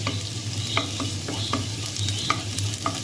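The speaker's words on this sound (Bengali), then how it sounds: "এখানে রসুন আর পেঁয়াজ কুচি দিয়েছি তেলের মধ্যে দিয়ে দিচ্ছি একটা তেজপাতা দুই টুকরা করে" Garlic, chopped onion and bay leaf sizzle in hot oil close by, a steady frying hiss broken by repeated scraping clicks of a stirring utensil against the pan, over a low electrical hum.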